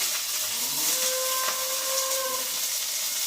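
Chopped onion dropped into hot oil with mustard seeds hisses with a loud, steady, close sizzle that runs unbroken throughout, with faint whistling tones above it.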